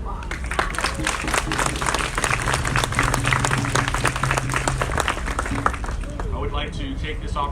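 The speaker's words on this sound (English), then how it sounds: "Can we give them a round of applause?" Applause from an audience at a bridge renaming ceremony honouring the Fishing Wars memorial, dense steady clapping sustained for about five seconds, then thinning out with a few voices and scattered claps toward the end.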